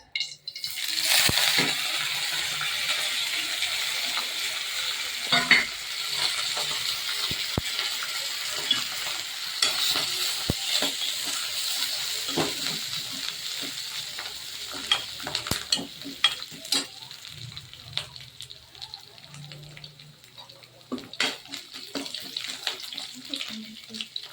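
Mustard seeds, cumin, curry leaves, dried chilli and ginger temper in hot ghee, making a steady, close hiss and crackle with occasional popping and stirring clatter that gradually quiets.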